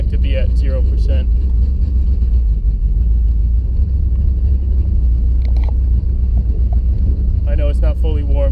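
A car engine fitted with Holley Sniper fuel injection idles unevenly before it is fully warm, a steady, loud, low rumble throughout, with someone talking at the start and end.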